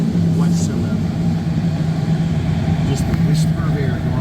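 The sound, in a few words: glider in flight over West Virginia mountains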